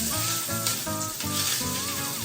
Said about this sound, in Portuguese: vou até pôr mais um fiozinho de óleo, pode ser óleo ou azeite, ó, para ele realmente começar a fritar